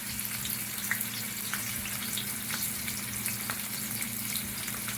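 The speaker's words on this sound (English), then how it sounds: "So I place the fish in the pot to fry." Fish frying in a pot makes a steady, moderately loud sizzle with crackling spits of oil scattered throughout and a low hum beneath, with no voices.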